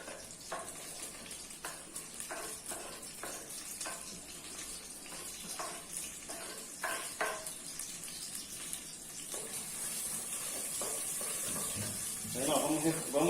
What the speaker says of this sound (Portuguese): Vamos refogar o camarão e a cebola no azeite de dendê.